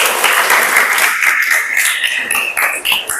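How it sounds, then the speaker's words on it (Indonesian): A class of students in an Islamic religious education lesson claps together in a short, dense burst of hand claps, close and fairly loud, lasting a few seconds. "Tepuk tangan ya."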